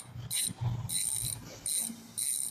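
A loud Primo BMX freewheel hub ticks in quick, bright bursts of clicking, three or four spins with short pauses between, close up and alone.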